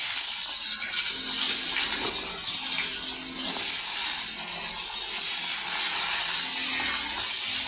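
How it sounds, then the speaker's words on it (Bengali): Potatoes frying in oil left over from frying fish, with black cumin seeds added, in a wok: a continuous close sizzle and hiss, steady and even, with faint clinks underneath. "আলুগুলো একটু লাল লাল করে ভেজে নেব"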